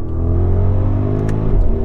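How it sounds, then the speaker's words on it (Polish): An Audi V8 with a GPF-equipped exhaust accelerates with a deep, steady burble, loud and close. The rumble holds evenly and swells slightly near the end, with no talking over it. "Słychać ten piękny bulgot V8-ki"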